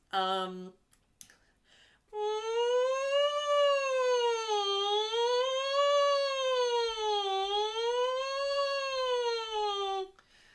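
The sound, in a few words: voice imitating an ambulance siren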